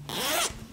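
A zipper is pulled open on a handmade sewn owl cushion, one quick close rasping zip lasting under half a second with no talking.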